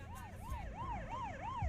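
Wailing ambulance siren rising and falling in a steady repeating cycle, fairly loud and close over a low rumble of traffic, with no voices.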